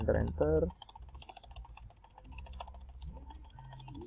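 Typing commands on a computer keyboard, with a short burst of voice at the start followed by quiet, steady clicking keystrokes close by.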